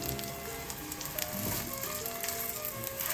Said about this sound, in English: I will take 1 ball and make a patty in my palm like this. I'm gonna put it in frying pan.